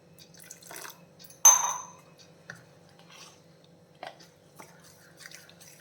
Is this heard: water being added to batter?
yes